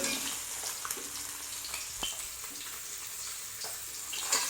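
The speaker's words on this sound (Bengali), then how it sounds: "মাছ কিন্তু একটাও ভাঙিনি, হালকা তেলে মাছ ভাজা।" Fish pieces fry in a little oil, giving a soft, even sizzle with a few faint pops and no talking.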